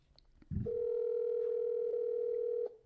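A phone on an outgoing call producing a steady, continuous ringback tone after a short rustle, held for about two seconds and then cut off, faint and close with no talking.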